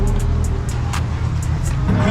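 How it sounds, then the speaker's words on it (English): A Dodge SRT pulling up at a car meet in Atlanta, a close, loud engine rumble with revving, steady throughout the short moment, with faint voices of the crowd mixed in. "We got the cheap SRT that just pulled up"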